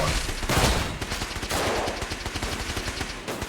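A modded shotgun revolver blasts away in Fallout 4, loud booming shots fired in quick repeated succession amid rolling combat noise.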